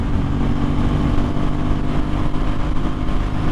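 Yamaha MT-09 or Aprilia RS660 motorcycle ridden on mountain roads, its engine droning steadily and loud up close, with rushing wind noise over the whole short stretch.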